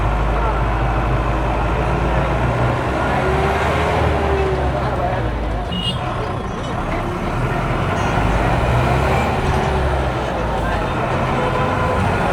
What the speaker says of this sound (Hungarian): A fiatal gyerekek viszik a buszt